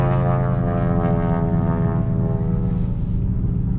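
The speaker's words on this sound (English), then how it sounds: "Y'all hear that plane?" A continuous low droning hum from a passing airplane, steady and fairly loud throughout with a broad rumbling tone and no speech.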